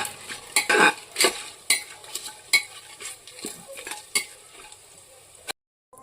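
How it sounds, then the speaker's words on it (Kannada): Whole spices, cinnamon, cloves, star anise, marathi moggu and pepper, frying and stirred in a pan for vegetable biryani, with irregular scraping clinks of a spoon over a steady sizzle, ending in a brief silence. "ಚೆನ್ನಾಗಿ ತಿರುಗಿಸ್ಕೊಳ್ಳುವ."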